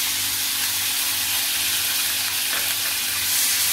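Chopped onion sizzles loudly in hot oil with asafoetida in a pan, a dense steady hiss of frying that holds throughout, close and without any talk.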